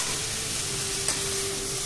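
Cauliflower, capsicum and tomato frying in a pan, a steady dense sizzle close up with a faint tick of a utensil partway through, with no talking.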